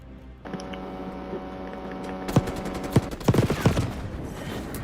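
Sniper fire in Call of Duty Black Ops 6, where a steady hum gives way to a dense run of sharp, overlapping cracks and bursts over about three seconds, loud and close.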